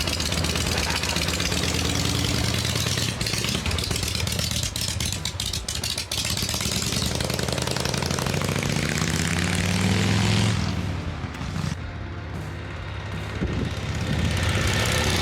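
A motorcycle with a freshly installed transmission idles loudly and close by, then revs and rides off, its engine note shifting and fading into the distance.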